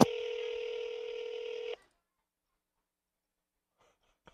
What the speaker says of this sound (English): I'm going to try calling the phone number for my phone.